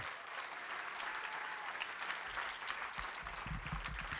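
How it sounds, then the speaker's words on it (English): Sustained clapping from an awards-ceremony audience at the 2019 Wilma W2W Awards, a thick continuous patter of many hands that holds steady and swells slightly toward the end. "Let's give them another round of applause."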